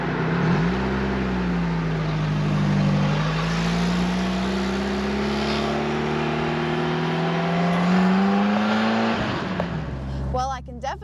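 A 1980 Fiat X1/9 drives along, its engine note steady and close with harmonics that sag and climb as it changes speed, until the pitch falls away near the end.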